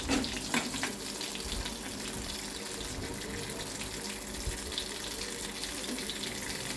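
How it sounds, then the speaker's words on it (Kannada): Cumin and mustard seeds sputter and crackle in hot oil for a fenugreek leaf stir-fry, a steady dense hiss with sharper pops near the start, close and moderately loud with no talking. "ಸ್ವಲ್ಪ ಜೀರಿಗೆ ಸಾಸಿವೆ ಚಟಪಟ ಅಂದಮೇಲೆ"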